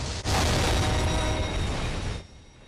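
Video-game explosion as a single loud, broad roaring burst that holds for about two seconds, then cuts off abruptly, with no talking.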